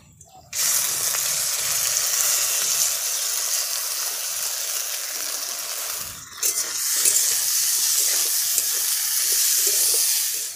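Washed mung dal tipped into hot oil tempered with bay leaf and whole cumin sets off a sudden loud, steady sizzle that holds, dips briefly, then surges again with faint stirring clinks.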